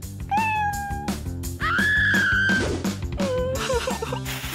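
A cat meows loudly and repeatedly at close range, with long rising and falling calls and shorter mews, over a busy musical background.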